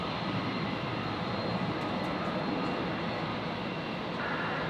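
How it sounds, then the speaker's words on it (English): Virgin Australia airliner departing Brisbane Airport for Melbourne, a steady, broad jet roar that holds evenly throughout at moderate distance, with no voices over it. "Virgin 318's off to Melbourne."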